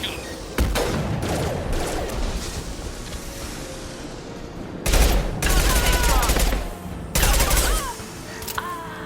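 Gunfire in the video game Mass Effect 2, with dense rapid bursts of shots across the clip. Two louder heavy volleys break in near the end, mixed with in-game battle noise and some voices.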